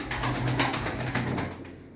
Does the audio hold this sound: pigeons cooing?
yes